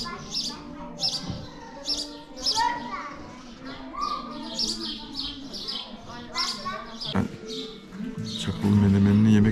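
Small birds chirp and tweet repeatedly in short high bursts inside a restaurant, among people talking and children's voices, with a louder clatter toward the end.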